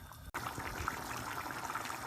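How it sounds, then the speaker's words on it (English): Spicy Mexican-style chicken soup with orzo bubbling in a pot over high heat, a close, steady churn of bursting bubbles with no talk. "this is bubbling away on a really high heat"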